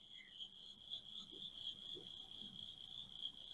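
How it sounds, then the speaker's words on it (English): A toad calls with a continuous, high, thin trill held steadily throughout, faint and distant against a quiet outdoor background, with a few soft low croaks scattered underneath. "So this is another toad species."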